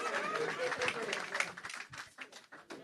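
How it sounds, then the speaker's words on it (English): Applause at a members' evening and induction ceremony, with dense clapping from an assembled crowd that thins and becomes more scattered toward the end, under some background voices. "Clap."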